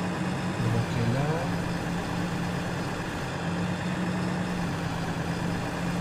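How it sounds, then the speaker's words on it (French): A tractor engine in the farming game Farming Simulator 15 holds a steady, droning hum with a low rumble and a constant tonal whine, briefly rising near the start before settling into an even, continuous run. "On entend le régime du tracteur quand je rallume l'appareil, ça étire sur le tracteur."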